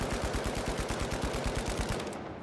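Rapid automatic fire from the FCAR rifle in the shooter game The Finals, a dense steady burst of closely spaced shots running for about two seconds, loud and alone before tailing off.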